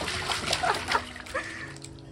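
Little girl splashing and sloshing water while bathing in a tub, a few close irregular splashes and trickles, quieter toward the end.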